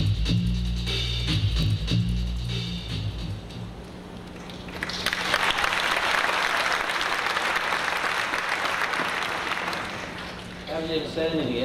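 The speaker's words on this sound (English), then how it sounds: "I haven't even said anything yet, and I got a cheer." An audience at the E3 2002 presentation for the PS2 game The Getaway breaks into loud, sustained applause and cheering after game dialogue, the clapping swelling and holding for several seconds before a voice cuts in.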